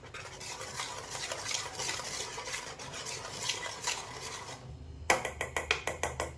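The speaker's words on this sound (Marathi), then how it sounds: "आपल्याला फास्टमध्ये हलवून घ्यायचं आहे" Rava papad batter is stirred quickly in a pot to break up lumps, a steady loud scraping swish for most of the stretch, then sharp rhythmic strokes against the pan near the end.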